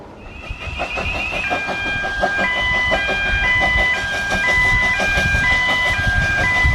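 Loud train rumbling past a zoo with rhythmic clatter, overlaid by steady tonal whines and horn-like notes that shift pitch in steps.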